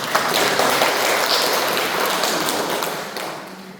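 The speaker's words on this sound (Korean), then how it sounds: "박수 한번 쳐드릴까요?" Audience applause at an indoor training session, a brief burst of clapping that swells, holds, then tapers off, fairly loud and close with no speech over it.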